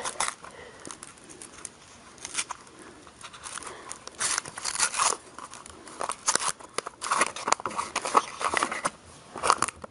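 Protective paper is peeled and pulled off a replacement ignition coil part for an Allis-Chalmers B1 tractor, giving close, crinkly tearing and rustling bursts that grow busier toward the end.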